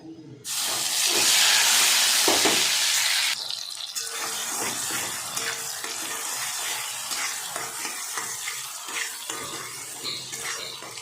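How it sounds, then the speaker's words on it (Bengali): Shredded cabbage lands in hot ghee with a loud, bright sizzle, then keeps crackling and hissing more softly as it is stirred, with scraping strokes of a spoon in the pan. "বাঁধাকপির জলটা শুকনো পর্যন্ত আমি নাড়তে থাকবো।"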